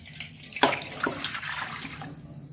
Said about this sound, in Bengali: এইখানে আমি নিয়ে নিচ্ছি জল।